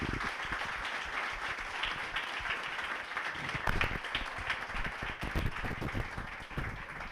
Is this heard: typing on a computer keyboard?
no